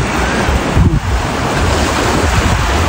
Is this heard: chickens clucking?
no